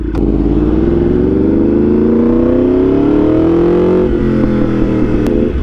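Yamaha R1 motorcycle, an abused former track bike converted for street use, revving steadily as its engine pitch climbs for several seconds, then drops back to a rough idle, loud and close with no talking.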